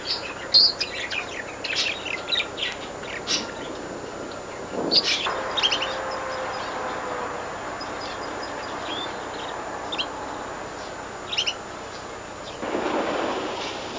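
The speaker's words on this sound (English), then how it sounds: "the aviary is a pleasant place to stop and listen to the birds singing" Small birds chirp and call in scattered bursts inside a park aviary, moderately distant over a steady outdoor hiss, with occasional brief louder rustles.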